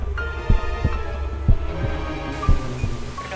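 Heartbeat sound effect, a steady, deep, thumping pulse in paired lub-dub beats, about one pair per second, loud and close over a low hum, with no voices.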